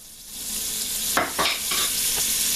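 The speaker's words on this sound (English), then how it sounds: "we've got this cast iron enamel pan over high heat. We're going to add a knob of butter to it." A knob of butter sizzles in a cast iron enamel pan over high heat, a hiss that swells as it melts, with a couple of bright crackling bursts and spatters partway through.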